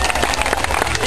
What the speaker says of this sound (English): Have a round of applause for